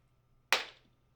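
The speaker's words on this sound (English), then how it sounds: "give me a nice loud clap, one loud clap in front of your microphone" A single sharp hand clap lands close to a microphone, loud and sudden, then decays quickly into near silence.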